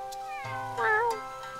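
A cat in the video game Suikoden V meows once, loud and close, with a drawn-out rising and falling cry over quiet game background sound.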